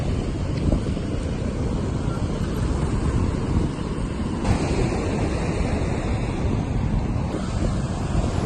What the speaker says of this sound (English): the sea's quite big. We've got a lot of broken water off the beach here